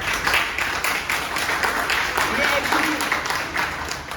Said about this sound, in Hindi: मैडम के लिए तालियां बजाओ।